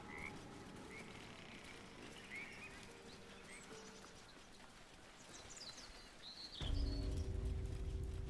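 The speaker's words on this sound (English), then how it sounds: "Oh, hey, it's the frog." A frog croaks faintly in the video game Baldur's Gate 3, small scattered calls over a soft ambient bed, followed by a louder low rumble near the end.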